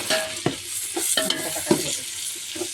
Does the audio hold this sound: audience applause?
no